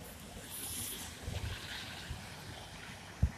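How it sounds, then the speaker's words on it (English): Heavy rain pours outdoors on a Thanksgiving day as a steady, broad wash of hiss with wind buffeting the microphone, ending in a brief close thump. "It's raining pretty good right now"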